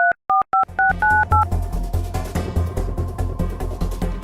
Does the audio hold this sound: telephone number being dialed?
yes